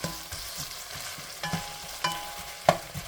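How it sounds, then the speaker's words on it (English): Chopped Vidalia onion sautés with browned hamburger meat in a pan, a soft steady sizzle broken by a few light scrapes and stirring clicks, close up with no talking. "Let this saute for just a minute"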